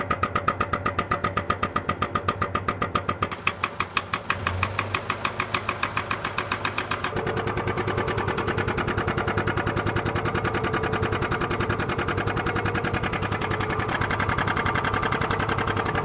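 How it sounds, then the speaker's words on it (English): Air compressor running close by, a loud rapid pulsing mechanical chug that holds steady for the whole stretch, smoothing into a denser drone about halfway through, and no one talking. "You click that button on that air compressor."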